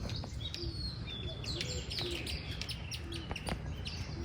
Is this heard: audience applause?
no